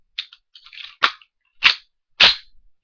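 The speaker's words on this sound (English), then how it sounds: "You fire it, bang, it ejects around." A Tokarev semi-automatic pistol fires three sharp, loud shots spaced about half a second apart, with fainter clicks and metallic handling noise of the slide and ejection before and between them.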